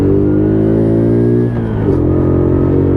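A WK Colt 50cc moped pulls hard in second gear, its small engine buzzing loud and close with a steady high whine that bends in pitch as it accelerates, alone without voices.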